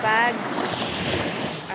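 Ocean waves wash steadily at a La Union beach, a continuous loud surf roar mixed with wind buffeting the microphone, with a brief voice at the very start.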